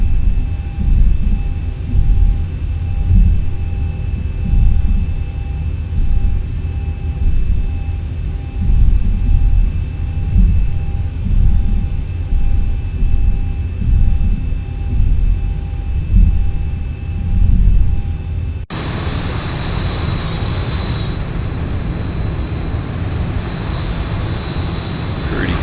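Simulated P-8 Poseidon jet engines in X-Plane 11, a steady cockpit hum with a faint whine and regular soft ticks, shifting abruptly to a brighter, louder engine roar near the end.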